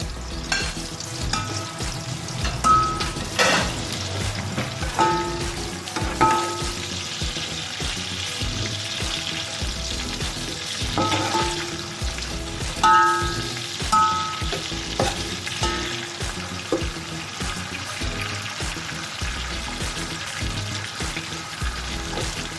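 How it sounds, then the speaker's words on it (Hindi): Sliced onions frying toward golden with whole garam masala in a pot, a steady close sizzle with frequent stirring scrapes and light clinks throughout. "अब हमें प्याज को बिल्कुल गोल्डन करना है।"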